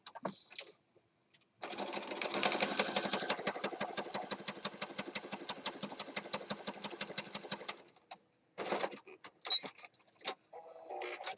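Sewing machine stitching two pieces together for a handmade Christmas journal, running in a steady rapid mechanical rhythm for about six seconds, then stopping, with brief handling noises and short bursts after.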